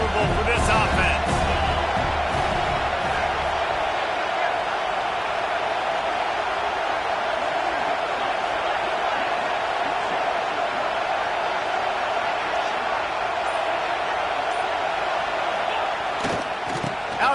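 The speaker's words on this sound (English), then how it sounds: "This crowd trying to make life miserable for this offense." Crowd noise fills a college football video game stadium in CFB 26 as a steady, dense roar that holds throughout, with a few thumps near the start and end.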